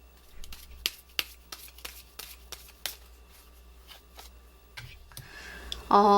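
Tarot cards shuffled and drawn during a fortune reading: a steady run of soft flicks, taps and sharp card snaps close by, ending in a brief louder tonal burst.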